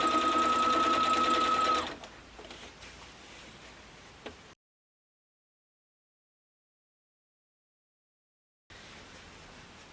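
A sewing machine stitches fabric tree skirt segments together with a loud, steady mechanical whir for about two seconds. It then stops, leaving faint room noise and a brief click, followed by silence.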